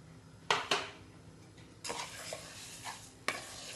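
Sugar is stirred without pause in a pan, with a few sharp spoon knocks and scrapes against the metal over a faint sizzle, the strokes close and irregular, with no one speaking.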